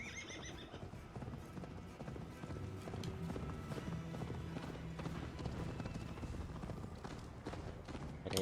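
Horse hooves in the video game Assassin's Creed Valhalla beat a steady, continuous clip-clop along a road, set within dense in-game ambience throughout.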